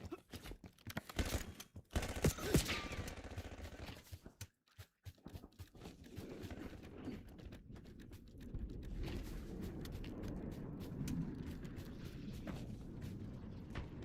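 Gunfire in the video game Black Ops 7: a few sharp, loud shots crack in the first seconds, then the scene settles into a steady rumble of distant combat noise.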